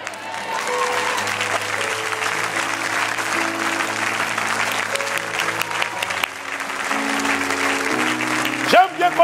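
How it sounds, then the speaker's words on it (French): A church congregation breaks into sustained, loud applause and cheering that fills the room continuously, with music and voices underneath. "J'aime bien quand tu acclames pour la vérité"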